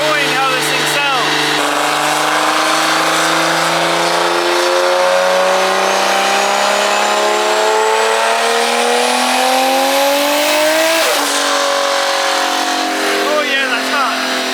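A Toyota Supra engine revs hard and close, its pitch sweeping steadily upward into a high scream before dropping off sharply, then settling back; on a less than ideal tire setup.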